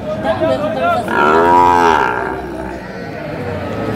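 A single loud, close cow moo swelling and fading over about a second, with background chatter from a crowd at a cattle market in Chuadanga, Bangladesh, where cattle are being bargained over.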